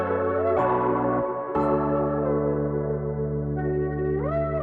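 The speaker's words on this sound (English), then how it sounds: "Ended out with some reverb." A produced beat with piano and sustained tonal layers, processed with compression, delay, distortion and a final reverb, rings out in a steady, loud wash with smeared, echoing tails and no voices.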